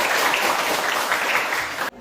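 A classroom of students applauds together, a dense, loud wash of clapping that holds steady for about two seconds, then cuts off abruptly.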